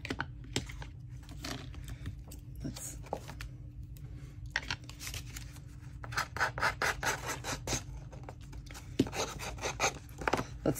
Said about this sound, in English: Let's scuff it up a little bit.